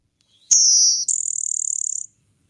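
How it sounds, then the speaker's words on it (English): Blue-winged warbler singing its buzzy song, close and clear in a quiet setting: a long, high insect-like buzz, then a second slightly higher buzzy rattle made of rapid pulses, about 1.5 seconds in total. "I'm a big fan of the blue-winged warbler because it kind of has that like buzz sound to it"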